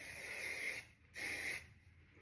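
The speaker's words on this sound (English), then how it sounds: "Finish it off with my spray wax again." Spray wax is misted onto fine hair in two close hissing bursts, each lasting under a second, with a brief pause between them.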